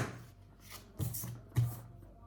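Tarot cards being shuffled by hand, with quiet, close rustling and two sharper riffle bursts in quick succession against a low background.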